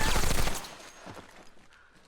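Rapid gunfire from a World War II battle scene in the TV series The Pacific crackles in a dense burst, then fades into scattered echoing shots.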